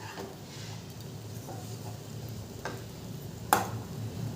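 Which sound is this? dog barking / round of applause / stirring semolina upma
stirring semolina upma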